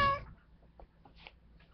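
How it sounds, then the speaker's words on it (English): Pet cat giving a single short meow at the very start, close and fairly loud, followed by quiet room noise with faint soft sounds. "This is my cat Angel."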